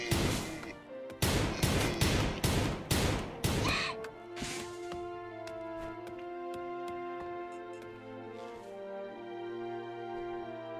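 Colonists fire guns in Rimworld, a rapid run of loud, sharp shots in quick succession, followed by sparser distant cracks over a steady sustained musical drone.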